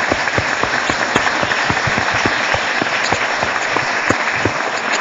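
An audience applauds a couple seated among them during a lecture, steady dense clapping from many hands filling the room at an even level throughout.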